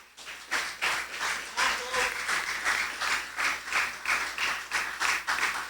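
Church congregation claps in a steady rhythmic beat, each pulse of many hands landing together, sustained and fairly loud throughout.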